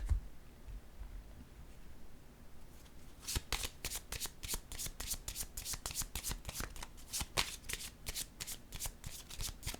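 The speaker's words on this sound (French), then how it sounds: "Je vais piger une autre carte." After a few quiet seconds, a tarot deck is shuffled by hand in a rapid, even run of crisp riffles and snaps. The sound is close and continuous, with no voice over it.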